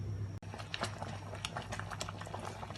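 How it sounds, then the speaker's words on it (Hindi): Tamarind chutney at a rolling boil in a pan on the stove, with dense popping and bubbling heard up close, steady and continuous with no talk over it. "तो आप ये देखिए इसमें बबल्स आना स्टार्ट हो गए हैं।"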